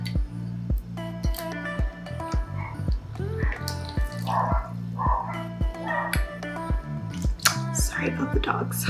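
Several dogs bark repeatedly indoors in a quick, uneven rhythm, loud and close, with kitchen sounds under the barking and no talking.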